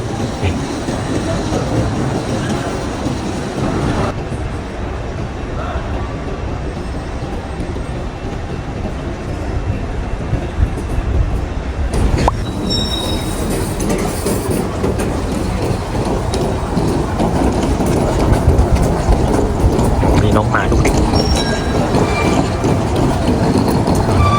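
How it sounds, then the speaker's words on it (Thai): Inside King's Cross railway station in London, trains rumble and hum continuously in a large echoing hall, a loud, steady wash of rail noise with faint distant clanks. "อันนี้ก็จะเป็นบรรยากาศภายในของสถานีคิงครอสนะครับ"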